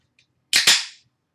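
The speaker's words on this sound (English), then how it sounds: "I'll pop the can" A can of Narragansett Cream Ale cracks open with a sharp double snap and a quick fizzy hiss that fades within half a second, close and clear in an otherwise quiet space.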